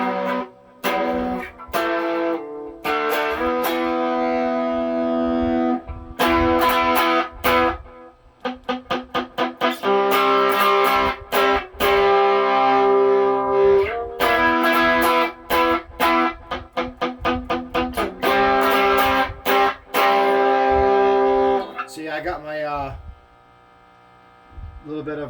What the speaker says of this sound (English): A little bit of power boost distortion going on there